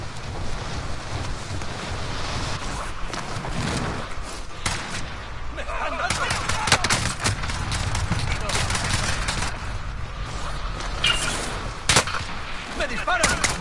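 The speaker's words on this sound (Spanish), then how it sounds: "te disparo." Rapid bursts of video game gunfire crackle repeatedly over a constant windy rumble, with sharp shots spiking through the steady noise.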